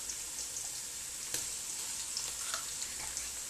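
Tomato paste frying in a pot for a local fish stew, a soft steady sizzle with faint crackles and an occasional stir, quiet and close with no talking.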